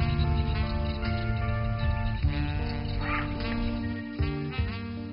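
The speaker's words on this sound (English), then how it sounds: "Listen to the birds." Ducks quack intermittently over a steady background of low sustained tones, moderately near, without talk, at a lake in Kuqa, Xinjiang.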